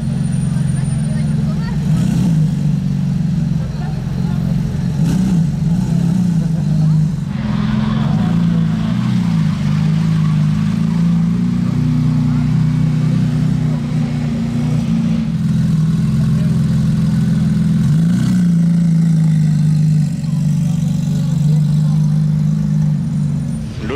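A Lotus 420R sports car with a non-stock exhaust and carbon tailpipe tips, idling with a steady low, throbbing drone that swells slightly at moments while a person talks over it.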